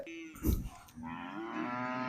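Buffalo calves at a cattle market give a short low grunt, then a drawn-out moo that holds steady to the end, fairly close and alone, with no talking.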